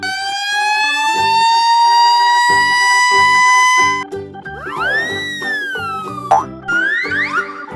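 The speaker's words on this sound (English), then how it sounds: "Red fire truck." A red toy fire truck siren from a children's cartoon, a loud steady rising wail for about four seconds over bouncy background music, followed by springy boing and whoosh effects.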